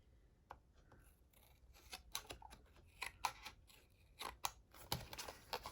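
Scissors snip through a chipboard album page in a series of close, crisp cuts, irregularly spaced and growing busier toward the end, with no talking.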